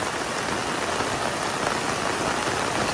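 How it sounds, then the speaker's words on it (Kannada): Heavy rain pours down steadily beside a river at a temple in Shishila, Dakshina Kannada, a dense, continuous hiss with no gaps and no voices. "ಮಳೆ ಜೋರ."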